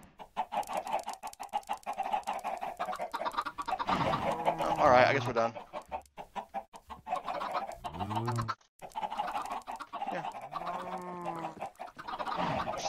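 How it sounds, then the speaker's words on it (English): Chickens on a video game farm cluck and squawk repeatedly over a steady backing track, with someone speaking briefly near the end. "Just gonna get a bunch of chickens and hopefully get enough eggs."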